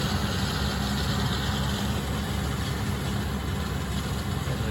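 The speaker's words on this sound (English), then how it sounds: "That 458 baler really does a good job." A John Deere 5085M tractor runs a 458 Silage Special round baler in a hay field, giving a steady, close, loud diesel drone with a mechanical rumble that holds constant throughout, no voices.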